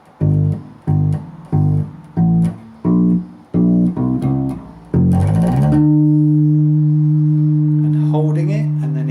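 Guitar notes played in a steady rhythm of about nine repeated plucks, then a slide up the 3rd string to a high D that rings out and sustains loudly before fading.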